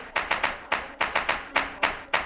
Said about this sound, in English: Everybody, I clap the man.